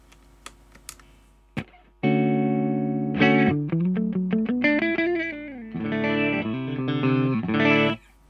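Clean electric guitar tone played through a Colortone Roundhouse tremolo, vibe, reverb and drive pedal: a few light taps, then sustained chords and a rising melodic run, loud and close with no talking.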